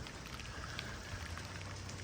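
Rain falling on stones outdoors, a steady faint hiss of soft pattering drops with no voices.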